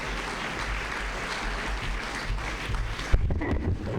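Audience applause for city council election candidates at a public candidates' forum, a steady wash of clapping from a seated crowd that continues throughout and ends abruptly near the close, followed by a few scattered claps and room noise.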